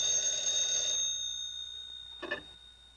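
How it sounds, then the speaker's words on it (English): A 1950s telephone bell rings for about a second, a bright metallic tone in a quiet room, followed by silence and a brief soft knock or movement. "Get that phone, Eddie."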